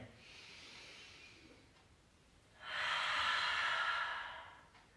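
A person breathes in and then out through the mouth during a yoga class, a softer inhale followed by a longer, louder, close exhale, with no talking.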